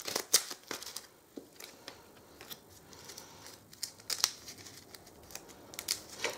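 Playing cards for a tabletop game are shuffled into a deck by hand, with a quiet series of irregular crisp riffles and taps at close range.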